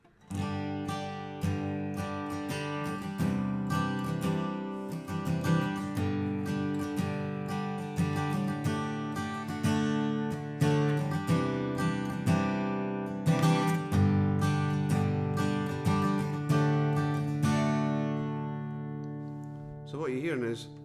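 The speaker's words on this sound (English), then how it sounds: "my Taylor A14. Let's do some chords here." Taylor A14 acoustic guitar strumming a series of chords, rich and ringing, with a continuous rhythm that closes on a final sustained chord.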